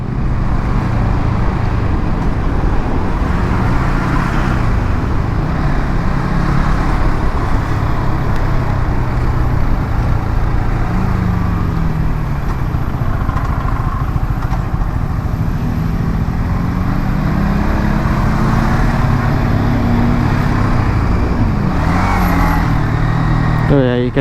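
A Yamaha XSR 155 motorcycle rides through traffic, its engine droning loudly and steadily throughout with shifting pitch as it accelerates and slows, passing vehicles and wind adding to the roar.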